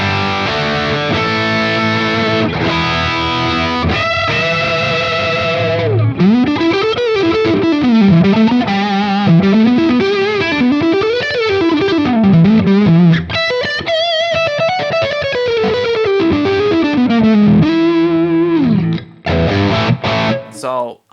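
Heavily distorted electric guitar plays a rock tone through a Friedman IR-X profile on a Line 6 Helix, loud and continuous, with sustained chords and sweeping, bending lead lines, briefly cutting out near the end.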